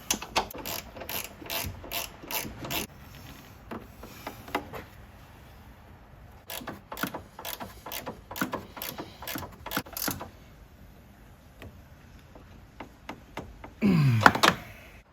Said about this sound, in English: pinch them off with a 13mm ratchet spanner